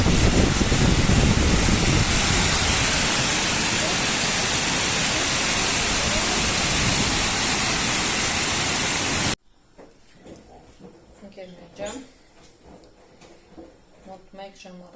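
Heavy rain pours in a dense, loud, steady hiss for most of the stretch, then cuts off abruptly to quiet room sound with a few faint knocks and voices.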